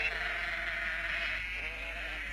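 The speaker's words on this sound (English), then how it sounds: "Flocks of sheep are grazed by other semi-nomadic tribes." Sheep bleating in a steady, sustained chorus, close and fairly loud, with no voices present.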